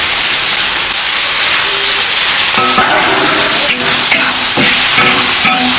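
Dried long beans frying with pork belly in a hot wok as a splash of water goes in, giving a steady loud close hiss of steam with crackling sizzle and bubbling throughout.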